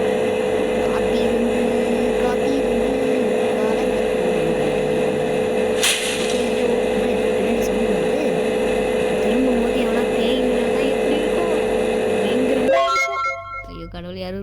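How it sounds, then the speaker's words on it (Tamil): In the Roblox horror game Insomnia, a generator drones with a steady mechanical hum under continuous talking, then the hum cuts off abruptly near the end. "okay, reset generator"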